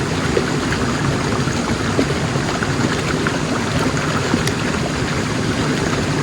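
A stream flows steadily outdoors at someone's feet. A loud, continuous rush and babble of water fills the whole stretch without pause, and no one speaks.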